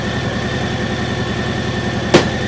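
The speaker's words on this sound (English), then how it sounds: "I covered the front brake and then very carefully I put in the first gear." A Harley-Davidson M8 Heritage motorcycle idles steadily at close range with a low, even rhythmic thump, then a single sharp clunk near the end as the transmission is shifted into first gear.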